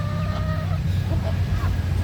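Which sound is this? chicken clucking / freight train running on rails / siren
chicken clucking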